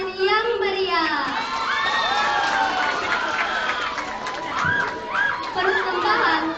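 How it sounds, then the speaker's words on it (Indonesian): Crowd of school students at an education day event cheering and shouting in excitement, with high children's voices rising and falling over several seconds; steady clapping is not clearly evident among the shouts. "Mari kita sambut dengan tepuk tangan yang meriah."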